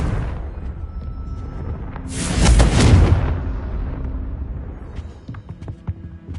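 A fiery Confringo spell explosion in Hogwarts Legacy: a loud, roaring blast swells for about a second over steady game background noise, then fades back down.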